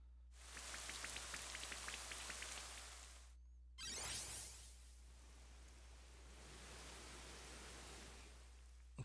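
Rain from the Rain Dance move in Pokémon Shining Pearl: a dense hiss of falling drops with patters, cut by a short gap, then a brief louder whoosh before the steady downpour resumes.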